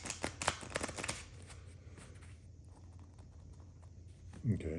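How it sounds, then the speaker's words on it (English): Playing cards are shuffled in a quick riffle of rapid crisp flutters at close range, then quieter handling and a soft thump. "So you give it a second shuffle."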